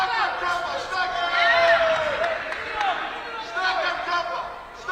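Boxing arena crowd noise at a GB Open finals bout in Sheffield, with German fans cheering and shouting in a sustained roar while a commentator talks over it.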